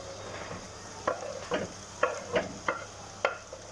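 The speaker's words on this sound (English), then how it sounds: "Now I'll add into that our smoked sausage." Smoked sausage going into a frying pan of cooking onions gives a soft steady sizzle, broken by about six short scraping stirs spread evenly through the clip.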